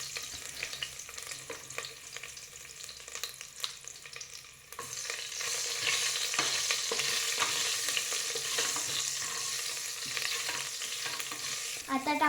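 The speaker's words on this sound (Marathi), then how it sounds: "आता मिरची टाकूया." Green chilies frying and being stirred in a hot pan, a steady crackling sizzle that grows louder and denser midway as stirring scrapes continue, close and alone without voices.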